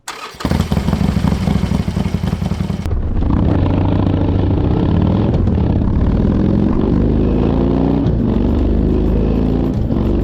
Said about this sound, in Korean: 할리 데이비슨의 모터사이클은 특유의 배기음을 가지고 있습니다.